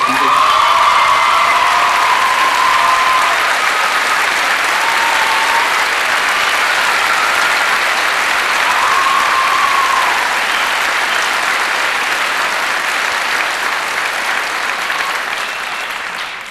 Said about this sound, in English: Please give DJ a warm round of applause.